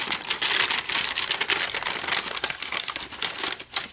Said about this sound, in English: Fold the sides in. Fold the top. And the bottom.